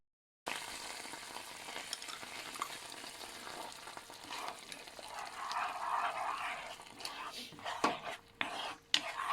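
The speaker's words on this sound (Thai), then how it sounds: "เคี่ยวมันแตกก่อนเคี่ยวให้มันสุกก่อน เป็นหัวกะทินะคะทุกคน" Rich coconut cream simmers in a pan until its oil separates, giving a soft, low bubbling sizzle that builds gradually, with a few clinks of a utensil against the pan toward the end.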